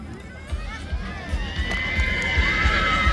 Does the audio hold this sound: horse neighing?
yes